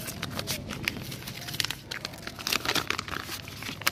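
Paper documents crinkle and rustle steadily as they are handled and pulled from the packaging of a new two-stroke motor bicycle kit, with close, busy crackling throughout.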